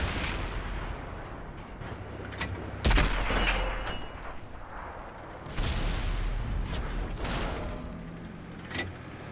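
Tank cannon fire in World of Tanks on console, from an Object 140 tier 10 medium tank firing at a Jagdpanzer E100: two heavy blasts a few seconds apart, each with a rumbling tail, over a dense battle din.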